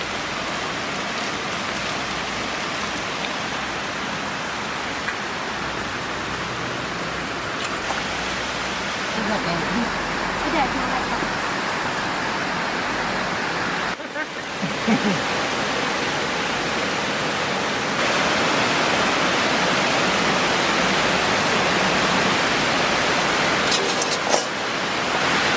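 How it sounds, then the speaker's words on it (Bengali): Water splashing and hissing onto a cooking stove (clay oven) while a pabda fish curry simmers, a steady broad rushing wash throughout with a voice speaking over it. "আমার উনানের মধ্যে জল পড়ে রে"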